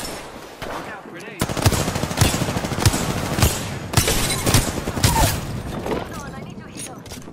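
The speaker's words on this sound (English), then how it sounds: "Look out, grenade!" Apex Legends combat, with rapid bursts of automatic gunfire and sharp explosive thuds repeating across several seconds, loud and close, with voices talking over the action.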